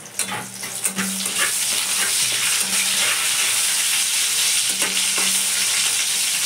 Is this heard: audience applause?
no